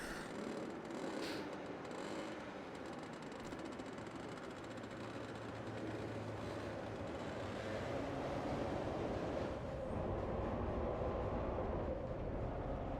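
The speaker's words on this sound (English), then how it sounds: "It is a very old school bus" A very old school bus engine drones on steadily with a rough, rumbling running noise and rattling body, loud and continuous for the whole stretch, swelling slightly toward the end, with no voices.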